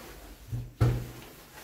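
Pickerings lift doors at Boots in Exeter give a soft thud, then a firmer knock as the doors start to open, both brief and close by.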